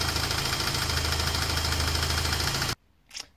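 A BMW E30 with an M40 engine idles steadily after a water pump and thermostat change, a close, even mechanical hum with a low throb that cuts off abruptly near the end, leaving brief faint sounds.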